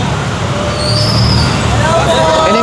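A tow truck moves through busy street traffic with a low engine rumble, air-brake hiss and squeal, and surrounding road noise nearby, while voices talk in the street.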